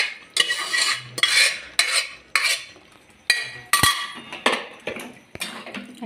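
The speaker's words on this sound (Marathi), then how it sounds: "आता हे शिजलेल्या भाज्या मी ह्या ग्रेव्हीमध्ये टाकणार आहे" Cooked vegetables are tipped into gravy and stirred, a metal spoon clanking and scraping against the pot in repeated sharp strikes with short wet pauses, close and clear without talk.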